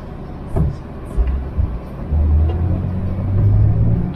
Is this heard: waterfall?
no